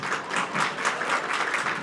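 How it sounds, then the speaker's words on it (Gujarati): A gathered crowd at a yagya ceremony at Momai Dham in Bhader claps together, producing a steady, fairly faint patter of many hands that continues for the whole short stretch. "તમારા બધા માટે તમે જ તાળીઓ પાડી"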